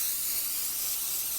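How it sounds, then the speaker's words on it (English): A steady, close hiss of aerosol cooking spray coating a baking dish, held for over a second, then cut off abruptly. "Spray down your baking dish."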